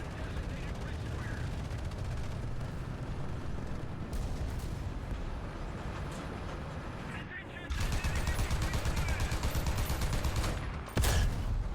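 Tank gunfire in the War Thunder video game, heard from a Soviet T-10M heavy tank: a dense, continuous rumble of battle noise that grows louder midway, then one sharp, loud shot near the end.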